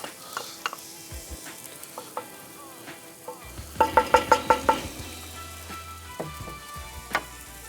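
Onions and garlic frying in a skillet over a Weber kettle grill, a steady sizzle with stirring clatters and a quick run of rhythmic scraping taps partway through.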